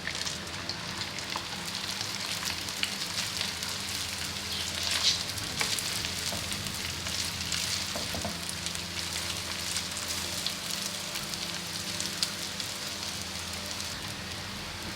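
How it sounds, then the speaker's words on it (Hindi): Garlic rice fries in butter in a pan, making a continuous crackling sizzle like light rain, with occasional scraping stirs close by and no voices. "ये देखिए, अब हम इसमें अपने चावल मिक्स करते हैं।"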